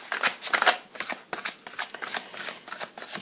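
Tarot cards shuffled and handled up close, a rapid series of riffling, flicking bursts with brief pauses between, crisp and steady throughout.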